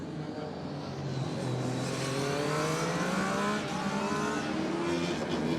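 Formula Student race car lapping a circuit at a UK endurance event, a continuous engine whine climbing and falling through gears, moderately distant, under crowd and commentary noise.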